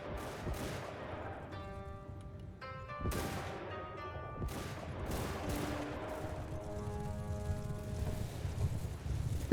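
Infantry fire rolling salvos in the samurai battle game Shokuho: Path of the Samurai, several sharp volleys crackling in uneven bursts over a tonal music bed, fairly loud and layered with distant shots.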